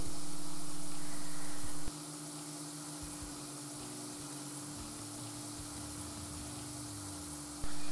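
Homemade potato chips fry in hot oil in a wide pan, giving a continuous dense sizzle and crackle with a few sharp pops, loud and close, with no talking.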